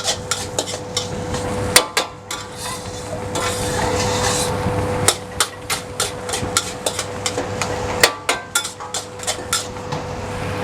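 A metal spatula stirs nasi goreng fried rice in a wok, giving close, loud scraping and sharp clanks against the pan in an irregular, repeated rhythm.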